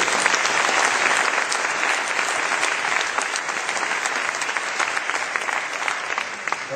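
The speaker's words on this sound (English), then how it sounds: "A round of applause for those organizations" Sustained audience applause at a byelection debate held in a church hall, a dense, steady clatter of many hands clapping at even loudness throughout with no voices over it.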